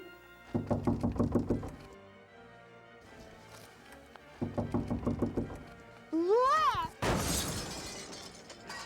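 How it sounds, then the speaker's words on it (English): Knocking at a door in a spooky horror-host comedy show, two bursts of quick raps separated by a pause, followed by a whooshing sound effect and a loud crash. "Ooh, I wonder who's at the door."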